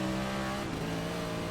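NASCAR stock cars race side by side through the Flugplatz on the Nordschleife in iRacing, a steady engine drone with shifting pitch, moderately loud and unbroken.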